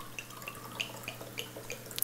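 Mineral water drips into a container in small, evenly spaced droplets, about seven clear plinks over a faint steady background hum.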